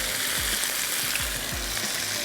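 Chopped green onions, white parts included, sizzle steadily in hot oil in a pan at the start of a pyazi bhindi fry, a continuous close crackling hiss with occasional stirring.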